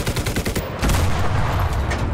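Sustained gunfire from cover fire in the World War II shooter game Enlisted, a dense rattle of rapid shots that starts with spaced bursts and thickens into a continuous loud volley, with no voices.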